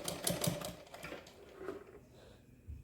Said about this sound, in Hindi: और दो दो सिलाई लगाते हुए इसमें प्लेट डालते जाएंगे।